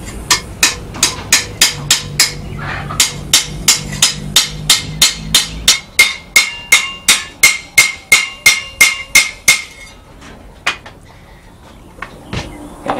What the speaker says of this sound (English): now I'm just going to take the head of my hammer and just hit around it to rivet it up on there.